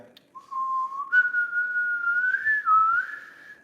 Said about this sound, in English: when I whistle, it helps me kind of think about the tone